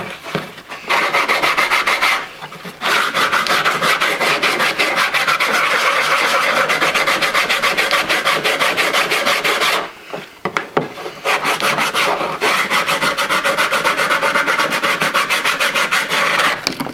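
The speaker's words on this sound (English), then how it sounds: "Hit them with the old sandpaper." Wood being sanded by hand with sandpaper to remove marks, a steady close rasping rub running almost continuously with two brief pauses.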